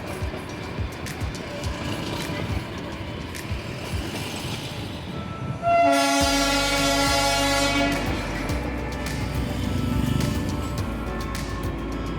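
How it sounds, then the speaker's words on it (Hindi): The toy train running from NJP to Darjeeling sounds a long, loud horn blast midway through, with steady rail rumble and traffic noise before and after. "इस ट्रेन को देखकर अक्सर रोड पर चलती गाड़ियाँ स्लो हो जा रही है"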